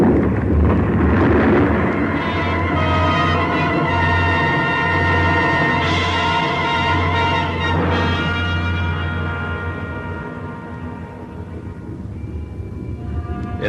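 Snow and ice sliding off a mountain ridge in an avalanche, heard as a loud, continuous broadband roar and rumble that holds steady for several seconds, then slowly thins and fades toward the end.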